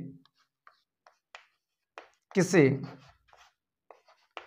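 Chalk or marker strokes on a board during a chemistry class, heard as short sparse scratches and taps spread across the clip, with one louder burst of someone speaking in the middle.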